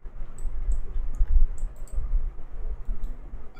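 Computer mouse clicks while working in Canva, a quick series of faint, crisp ticks spaced irregularly over a low background hum, with no talking.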